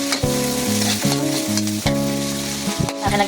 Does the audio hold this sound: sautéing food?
yes